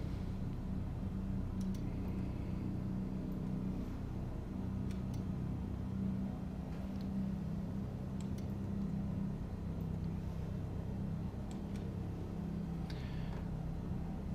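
A Cessna 172SP piston engine in Flight Simulator runs at a steady low idle near 1,000 RPM, a constant droning rumble with no change in pitch throughout.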